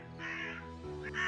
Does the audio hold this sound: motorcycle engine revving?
no